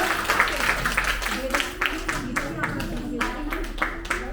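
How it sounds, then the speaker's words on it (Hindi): Audience clapping and applause for a children's performance at a Triveni Kala Kendra aipan event, a steady burst of many hands lasting several seconds over a murmuring hall, with a voice speaking in between. "ताली बजा दीजिए जोरदार"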